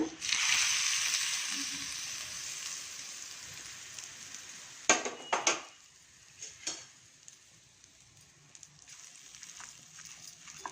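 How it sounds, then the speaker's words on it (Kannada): Spice tempering for a Mysore-style curd and cucumber dish crackles loudly in hot oil at first, then fades to a softer sizzle with a few sharp clinks and stirring knocks. "ಇದಕ್ಕೆ ಒಗ್ಗರಣೆ ಹಾಕೋಣ"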